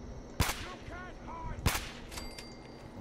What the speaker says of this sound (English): Alright, takes 2 headshots to take him down.